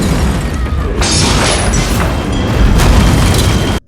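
Loud, sustained explosion rumble from a horror film scene in which gifts handed to children blow up, a dense booming roar lasting several seconds before cutting off abruptly.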